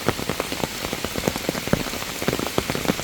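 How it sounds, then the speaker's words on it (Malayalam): Steady heavy rainfall drums nearby, a constant roar broken by bright, irregular splashes of big drops striking a surface, loud and uninterrupted by talk. "നല്ല മഴയൊക്കെയാണ്."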